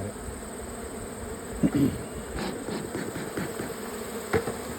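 Honey bees hum steadily around hives in a bee yard, a soft continuous buzz close by, with a few brief louder passes of single bees, while a voice briefly speaks.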